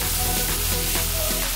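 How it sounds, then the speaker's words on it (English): Mixed vegetables saute in a hot pan for a rotini dish, giving a steady, close sizzle with soft crackling throughout and no talking. "Go ahead and throw in all your vegetables and saute them until they are crisp tender."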